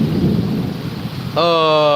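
A thunderstorm with rain in Amreli gives a dense, rumbling wash of rain and low thunder for most of the stretch, then a steady, bright tonal drone abruptly cuts in near the end.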